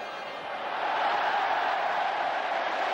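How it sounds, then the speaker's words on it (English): A stadium crowd roars at San Siro during an AC Milan versus Brescia Serie A football match, 1992–93. The dense, broad cheer swells after the first second and holds steady and loud to the end. "Huge cheer around the San Siro"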